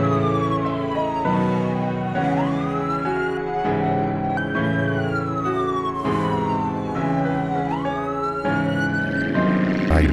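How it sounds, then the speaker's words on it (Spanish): Police car siren in GTA San Andreas, wailing loudly and continuously in repeating rising and falling sweeps, alone with no voices. "Al bajarse del auto la sirena seguirá sonando en lugar de pararse como suele pasar."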